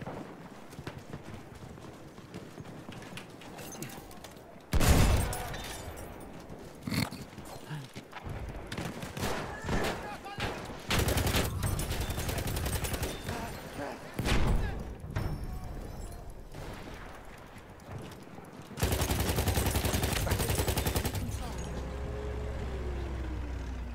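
Battlefield 1 gameplay with several loud bursts of gunfire punctuating a busy, noisy battlefield mix, heavy shots and rumbling blasts recurring over about twenty seconds.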